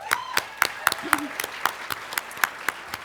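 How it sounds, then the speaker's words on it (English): Slow, regular hand claps, about twelve evenly spaced beats, ring out as an audience applauds the shifters at an evening event, with a voice speaking briefly underneath. "Give them a round of applause as well."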